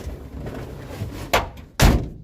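A car door is pulled shut from inside the vehicle: a first softer thunk, then a louder, heavy slam close by after a short shuffle, with no talk.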